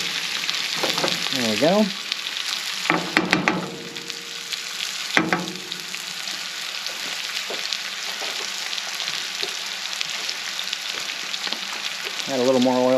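Chicken and noodles frying in oil in a pan on an outdoor grill, a constant close sizzle with occasional scraping or stirring knocks, and someone speaking briefly in between.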